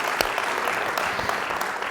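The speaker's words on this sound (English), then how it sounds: "Please give them a round of applause" Audience applause for sponsors at a food conversation event, a short burst of continuous crowd clapping with a few louder individual claps standing out.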